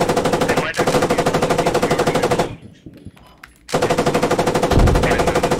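A tank machine gun fires in a video game in long rapid bursts, loud and close, with a brief pause mid-way before firing resumes, no speech over it.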